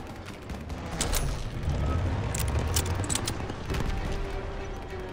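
Gunfire in Call of Duty: WWII during a street fight with German troops and a half-track, scattered shots and rattling bursts over a rumbling battle din at moderate loudness, no talk.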